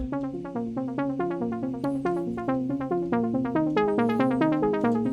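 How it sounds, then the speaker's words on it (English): A bright synth plays a steady melodic line through a dotted sixteenth-note delay, each note trailed by rhythmic echoes that bounce off-beat, filling the gaps between notes with repeating, fading copies. "So I'm just doing some delay."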